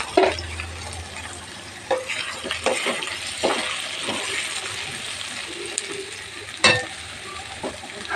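Ivy gourd (dondakaya) pieces fry in hot oil in a pan, giving a steady broad sizzle with scattered clinks and scrapes of stirring against the pan throughout.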